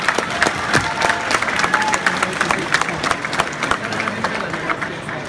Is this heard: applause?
yes